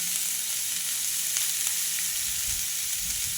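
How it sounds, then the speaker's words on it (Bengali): Thin slices of teasel gourd fry with chopped onion in a pan, giving a steady, close hiss of sizzling oil with faint stirring scrapes and no voices. "আমি কাঁকরোলগুলো কিন্তু একবারে পাতলা পাতলা করে কেটেছিলাম, তার জন্য কিন্তু খুব সহজেই এটা ভাজা হয়ে যাচ্ছে"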